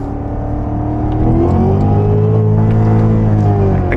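Cadillac CTS-V, 640 hp, accelerating hard in a second-gear roll with traction control off, its engine roaring louder as revs climb steadily from inside the car, with no talk.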